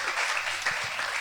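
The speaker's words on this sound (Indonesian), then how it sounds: "Tepuk tangan dulu buat Tuhan Yesus Kristus." A church congregation claps together in a brief, steady burst of dense applause, moderately loud and without pause.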